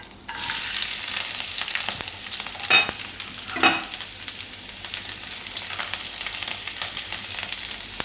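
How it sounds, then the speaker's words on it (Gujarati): Garlic sizzling in hot oil for tempering, a tomato broccoli pasta sauce, gives a loud, steady frying hiss throughout, broken by two brief sharper crackles and stirring, with no talk. "તેલ આપણે ગરમ મૂકી દીધું છે એમાં આપણે નાખશું લસણ"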